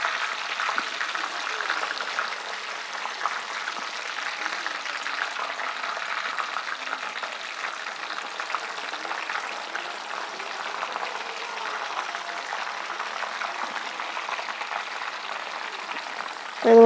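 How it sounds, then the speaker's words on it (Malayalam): Dried vattal frying a little at a time in hot oil, a steady crackling sizzle that stays even and fairly loud, alone without talk. "ഇതുപോലെ കുറേശ്ശെ വറ്റലിട്ട് എടുക്കാൻ വേണ്ടി ശ്രദ്ധിക്കണം"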